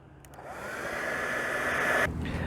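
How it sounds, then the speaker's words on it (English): A hair dryer blows steadily at close range, heating a BMW Z3 antenna grommet, a constant whooshing hum that builds slightly before cutting lower near the end. "And to heat up the grommet, we're just going to use the hairdryer again."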